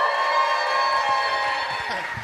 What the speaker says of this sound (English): Give me a cheer and a scream if you think that Luke won the battle.